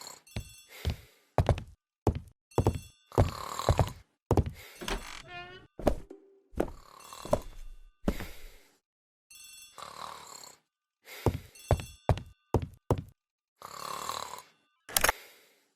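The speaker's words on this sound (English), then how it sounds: "The telephone in the hall is ringing." Telephone in a hall ringing in an Agatha Christie detective game, a repeated series of short bright rings in a steady rhythm, fairly faint and alone.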